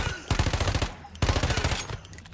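Submachine gun fire in the video game Once Human, two rapid bursts of loud, close shots separated by a brief pause.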